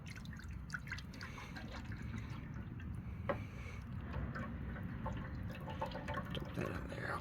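Perchlorate liquid pouring into a Teflon container, a faint, steady trickling and dripping wash of liquid that runs continuously at low level.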